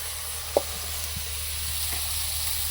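Katla fish curry with drumsticks cooking in a pot, a soft, steady sizzle and hiss with a faint stirring tap or two.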